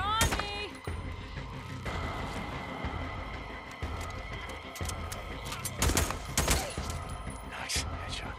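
Gunfire in the open-world game Days Gone, scattered shots and sharp bursts over a busy background of engine and ambient noise, with a louder cluster of cracks near the end.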